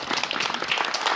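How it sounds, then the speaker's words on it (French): An audience claps for the speaker's mother, a short burst of dense, steady applause in a hall, with no pause. "est-ce qu'on peut applaudir ma mère, s'il vous plaît?"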